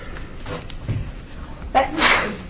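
A single sharp sneeze bursts out near the end, preceded by a quick inhale, with faint background murmur beforehand.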